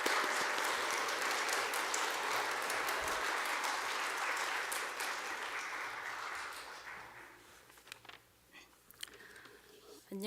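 Church congregation applauding to welcome a speaker at a Sunday service, a full steady round of many hands that fades out after about seven seconds, leaving a few scattered claps and light room noise.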